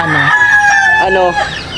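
Newly kept pet chickens at home fill the air with close, loud clucking and squawking. A rooster's crow rises through the middle of the short burst.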